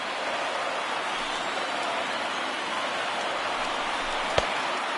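Steady rain falls on a baseball field in the MLB 19 video game, a constant loud hiss with no break, joined by a single brief knock near the end.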